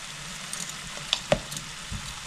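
Spice paste for a shankar (stingray) fish curry sautéing in hot oil, giving a soft steady sizzle with a few sharp clicks and pops of stirring, close up and without talk.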